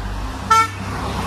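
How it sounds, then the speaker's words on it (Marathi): A vehicle passing on a road through a Konkan sacred grove gives one short, clear horn toot over the low hum of traffic. "हे बघा प्रत्येक येणारा जाणारा इथे हॉर्न वाजवून जातो."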